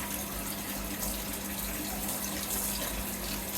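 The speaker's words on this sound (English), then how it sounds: "We've got the hot tap running." Hot water tap on a Worcester Bosch compact combi boiler system running steadily, a constant close hiss of flowing water with a low hum beneath, no talk.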